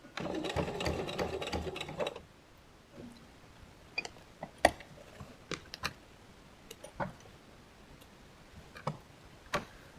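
A domestic sewing machine runs in a brief loud burst while backstitching to lock the thread in fabric, followed by scattered soft clicks and handling ticks in a quiet room.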